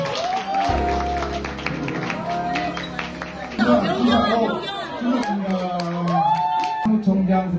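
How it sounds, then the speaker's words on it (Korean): Applause and crowd chatter fill a room at a cycling club's year-end party, with scattered clapping running beneath voices, laughter and talking throughout. "자, 박수"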